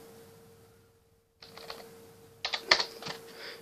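A few quick keystrokes on a computer keyboard entering a command on a Raspberry Pi setup, sparse close clicks after a short silence, with a faint steady electrical hum underneath.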